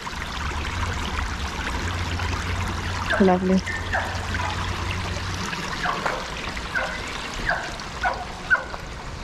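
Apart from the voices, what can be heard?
flowing stream water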